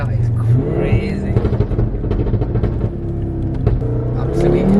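Tuned Audi RS3 8P with a stage 2 map accelerating hard, a loud low engine drone heard from inside the cabin that climbs steadily in pitch, with an excited voice talking over it.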